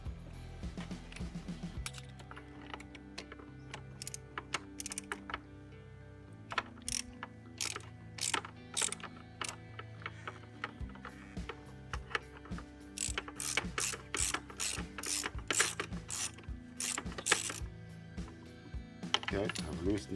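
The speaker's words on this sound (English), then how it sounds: "The 32 socket is going to fit on there." A hand ratchet with a 32 mm socket clicks while loosening the oil filter cap on a VW 2.0 TDI engine. The dry, close-up pawl clicks come in quick bursts separated by short pauses.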